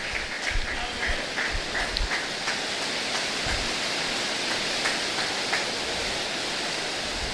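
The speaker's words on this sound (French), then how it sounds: "Il pleut tellement." Heavy rain falls during a church service, a loud, continuous hiss and roar with scattered patters and thumps throughout.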